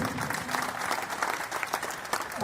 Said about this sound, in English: Give a clap to our priest.